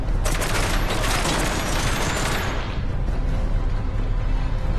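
Dense, loud gunfire from the video game Metro Awakening, a continuous fusillade of overlapping shots that fills the whole stretch and thins slightly partway through.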